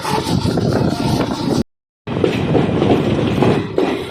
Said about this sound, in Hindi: ट्रेन पहुंची है फगवाड़ा जंक्शन रेलवे स्टेशन